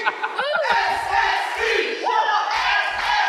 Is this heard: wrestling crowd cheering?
yes